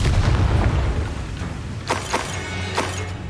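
Bombarda spell blasts in Hogwarts Legacy, a continuous low rumbling boom with several sharp bursts cracking through over a few seconds, loud and close.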